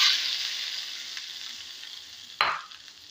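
Hot tempering hits coconut chutney with a loud hiss that slowly fades, then a second sharp burst of sizzle flares up as more is poured, with no talking.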